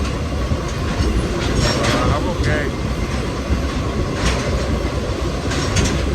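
A passenger train rolls steadily along the rails between Cleveland and Chicago, with a continuous rumble and clatter and a brief squeal of wheels near the middle; a person speaks briefly over it.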